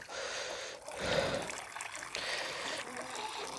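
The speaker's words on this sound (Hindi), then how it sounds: "मैं इसमें पानी डाल देता हूँ" Water is poured into a container at close range, a steady trickling and splashing stream that swells and eases over a few seconds.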